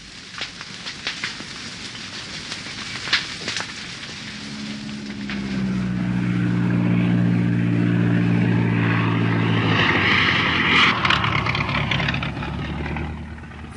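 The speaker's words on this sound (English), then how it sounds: "The plane flies in men and supplies, and Orlando arrives to supervise the final" A propeller airplane flying in to a remote Amazon clearing, its engine drone rising from faint to a loud, steady roar overhead and holding for several seconds, set against outdoor background noise.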